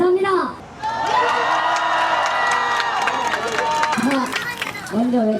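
A crowd at a conservative group's rally in Seoul cheers loudly and continuously, with shouts and whoops rising over a dense roar for several seconds, and a voice cuts through near the start and end.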